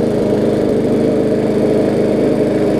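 A Briggs and Stratton Classic engine on a push lawn mower runs steadily at close range, a loud, even buzzing drone with no change in pace and no voices.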